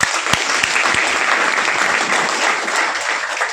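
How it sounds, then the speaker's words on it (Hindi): A crowd claps steadily throughout, dense and sustained applause filling the room with no pauses. "ताली भाई जैन साहब के लिए"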